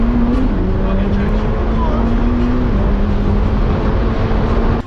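A 700bhp Honda Civic accelerates hard with a loud, sustained engine roar and a rising tone heard from inside the cabin, with no pauses.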